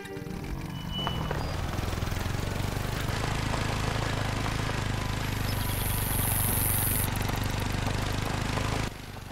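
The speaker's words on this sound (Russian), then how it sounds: "Давайте возьмем квадроцикл и поедем." A quad bike ATV engine in a hunting video game drives along a mountain route, its steady, moderately loud rumble continuing throughout before cutting off abruptly at the end.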